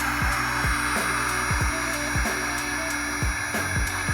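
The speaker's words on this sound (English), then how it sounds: "now we're gonna go and heat shrink the first one." A heat gun blows steadily while shrinking heat-shrink tubing over a soldered wire during rear-bumper wiring on a 2007–2013 Toyota Tundra, a loud continuous close-up whooshing hum with slight regular pulsing and no talking.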